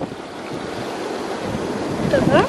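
Jacuzzi jets churning bubbles through bath water as a bath bomb dissolves, a loud steady rushing and frothing hiss that swells slightly toward the end.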